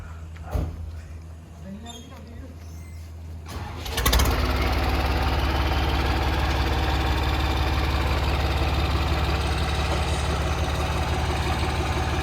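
A tractor engine on a Punjab village farm, quiet at first with voices, then starting up and settling into a loud, steady idle close by for the rest of the clip.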